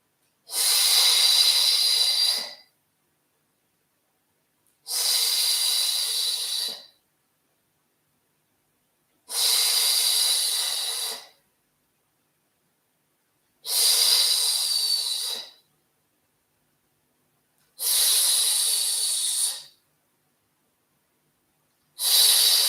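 Slow, deliberate breaths during a whole-body Pilates exercise, five long hissing breath sounds in an even rhythm with silent gaps between, close and fairly loud with no talking.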